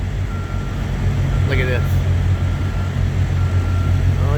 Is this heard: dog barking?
no